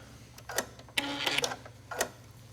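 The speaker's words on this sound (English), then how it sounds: "So here we are stitching away." A sewing machine doing bobbin work in a long wave stitch, close by in short mechanical bursts, whirring and clattering, with brief pauses between runs.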